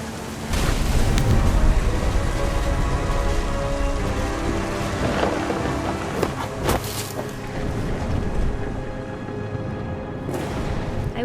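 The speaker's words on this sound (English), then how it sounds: "The thunder sounded much too close and full of angry power" Steady rain pours in the video game What Remains of Edith Finch, a dense continuous hiss with a few louder bursts that may be thunder rumbling nearby, with no voices.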